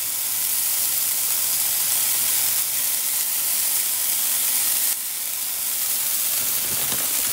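Cheese melting in a hot skillet to form keto taco shells, giving a steady broadband sizzle and hiss that holds evenly throughout, close and moderately loud with no talk.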